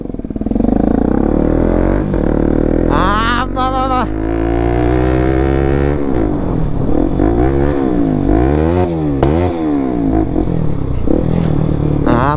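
Motorcycle ridden on a mountain road to Chimkhola in Myagdi, its engine loud and close, revving up and down in rising and falling sweeps with clattering road noise.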